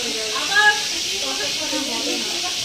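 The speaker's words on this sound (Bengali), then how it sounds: "তাহলে এখন লোটে মাছ ভাজা হচ্ছে" Bombay duck fish frying in a home kitchen gives a steady, bright hiss throughout, with voices talking underneath it.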